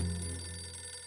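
A telephone rings with a steady electronic tone during a hands-free call placed while driving, heard close and alone for about a second.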